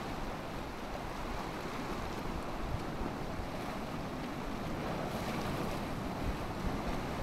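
Ocean waves on a small hidden beach in the Konkan region, a continuous loud roar of surf with wind buffeting the microphone throughout, no voices.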